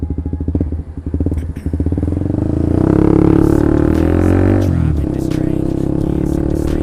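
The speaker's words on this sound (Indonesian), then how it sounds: "tadi pure sound dari knalpot Lone Ride" Honda CB150R motorcycle fitted with a Lone Ride aftermarket exhaust, loud and close, idling with a pulsing burble before revving up into a sustained roar, then dropping back to a steady rumble.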